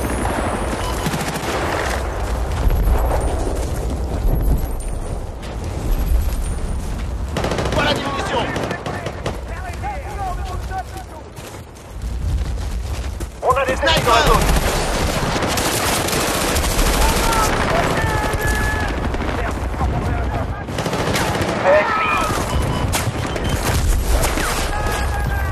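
Multiplayer gunfire in Battlefield Bad Company 2 on the Nelson Bay map, dense rapid automatic bursts and loud booms crackling almost without pause, with someone talking over the shooting.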